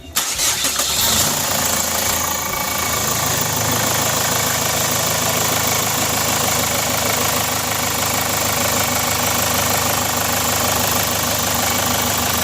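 A Chevrolet Captiva engine cranks briefly during a starting test, then catches and settles into a steady, close idle that runs alone to the end.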